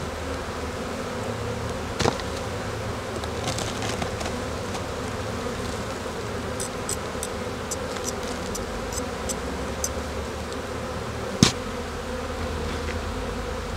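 Honeybees buzz steadily around an opened hive during the first inspection of the year, a continuous close drone with occasional individual bees passing near and a couple of sharp knocks.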